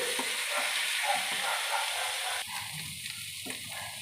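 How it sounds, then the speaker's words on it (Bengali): Masala stir-fried in a pan sizzles close up, with scraping stirs and frying hiss; the sizzle drops in level partway through while stirring continues. "দিয়ে আবার একটু কষিয়ে নিই।"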